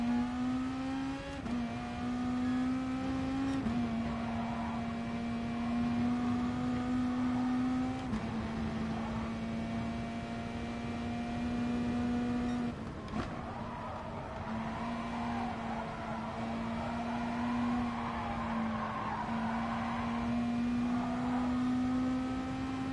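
Race car engines drone steadily in a 40-minute video game race with tire compound rules, a loud sustained whine with shifting pitch and brief gear-change dips, continuous throughout with no talk.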